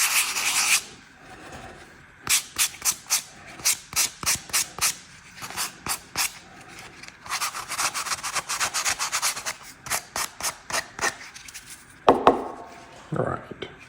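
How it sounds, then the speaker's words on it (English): A sanding block with 150 grit sandpaper rubs over a small crafted Warhammer 40K brood egg marker in quick rhythmic strokes, close and scratchy, with a few short pauses and a brief bump near the end. "this is just the sanding block, but any sandpaper would work"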